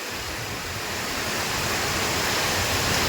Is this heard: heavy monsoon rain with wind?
yes